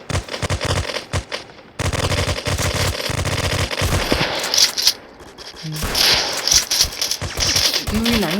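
Gunfire in the shooter video game Rec.o.r.d, rapid automatic bursts in repeated volleys with short pauses between, loud and close, no speech.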